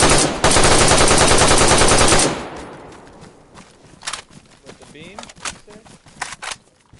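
Sustained automatic gunfire aimed at a badly damaged wall in DayZ, loud and continuous for about two seconds before cutting off, followed by quieter scattered clatters, footsteps and brief voices.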